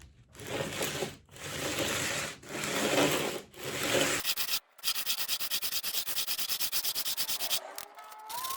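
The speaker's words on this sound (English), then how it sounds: "So there's been a lot of sanding" Steady rhythmic sanding of a guitar fretboard, strokes rubbing back and forth in bursts, then a faster, finer scraping rhythm continuing without any talk.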